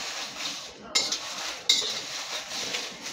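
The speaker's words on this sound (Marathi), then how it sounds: "करपणाचं आपण काळजी घ्यायची आहे, फक्त लालसर आपल्याला भाजून घ्यायचं आहे" Spices for kala masala dry-roasting in a pan, with a metal spoon scraping and clinking against the pan in two sharp strokes over a faint roasting hiss.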